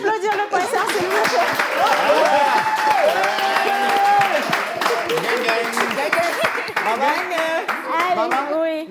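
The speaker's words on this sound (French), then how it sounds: "Est-ce qu'on peut applaudir le professeur" An audience claps for a professor, a lively round of hand-clapping from a crowd that runs for several seconds, with chatter, whoops and a voice mixed in.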